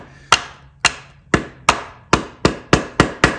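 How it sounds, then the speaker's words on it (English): Hammer blows striking a stuck spark plug on a locked-up KX250F dirt bike engine, eight sharp metallic knocks in a steady, slightly quickening rhythm, close and loud with no talk. "Nothing a little hammer can't fix, huh?"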